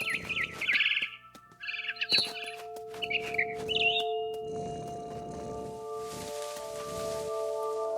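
Frightened barn swallow from What Remains of Edith Finch giving quick clusters of bright chirps, close and clear at first, then fading into soft rustling and a steady background hum.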